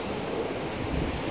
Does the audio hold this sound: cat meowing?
no